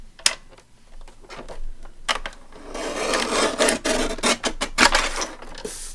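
Paper being cut for a handmade journal along a 4.5-inch line, close crisp slicing and rasping strokes, a few sharp snips early, then a longer steady run of cutting.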